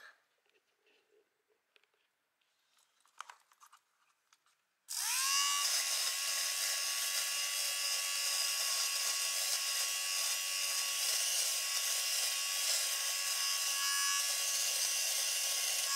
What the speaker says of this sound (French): Là, c'est ma chaussette pleine de bouloches. Je vais prendre le rasoir.